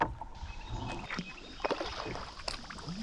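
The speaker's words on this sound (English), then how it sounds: "some more nice paddling here upstream" A kayak paddled upstream on Spring Creek, with soft water splashes and paddle strokes repeating close by over steady stream and wind noise.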